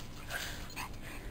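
A puppy gives a few faint, high, brief whimpers from close by over quiet background noise.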